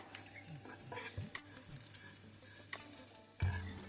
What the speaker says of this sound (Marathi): दोन उभे चिरलेले कांदे घालायचे आणि एक वाटी नारळाचं कीस घालून खरपूस भाजून घ्यायचं